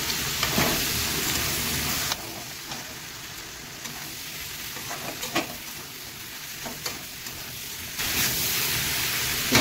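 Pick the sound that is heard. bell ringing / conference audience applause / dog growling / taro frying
taro frying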